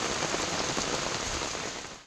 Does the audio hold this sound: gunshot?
no